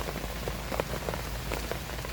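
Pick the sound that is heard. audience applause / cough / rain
rain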